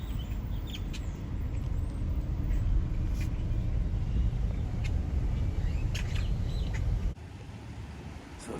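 A small bird, probably a duck, calls faintly now and then over a steady low rumble of a car interior or nearby traffic, with no talking; the background noise drops abruptly near the end.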